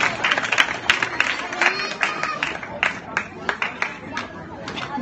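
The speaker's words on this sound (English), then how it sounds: "let us give him a round of applause, Mr. Jayson S. Jingco." An audience at a guest speaker event applauds steadily, with dense close clapping and crowd murmur throughout.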